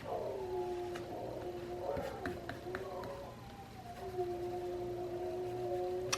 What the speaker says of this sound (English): my dogs howl when they hear police or fire siren